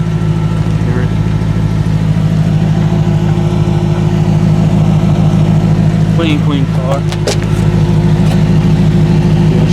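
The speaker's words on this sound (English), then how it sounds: "You see the exhaust. Hear it." Audi S4 Avant with a 4.2 V8, quattro drive and stage 2 mods, its exhaust idling in a loud, steady, deep rumble with a brief rev partway through, while someone speaks close by.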